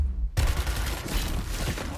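Gunfire from the Gears Tactics video game, a dense sustained burst of shots that starts abruptly after a brief quiet moment and keeps up steadily to the end.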